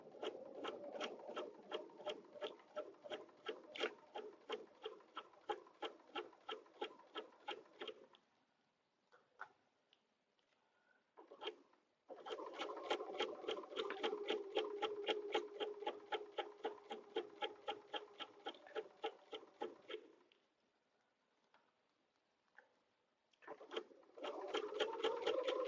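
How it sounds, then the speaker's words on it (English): A sewing machine stitches slowly through vinyl in rapid, regular needle strokes, running in two long bursts with a short pause and a brief restart, close and clear. "I have found that sewing slow on vinyl works better for me."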